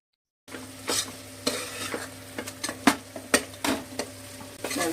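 Mushroom pulao masala frying in oil in a pan, with a sizzling background broken by repeated scraping and clinking stirring strokes at an uneven rhythm, close up and without talk.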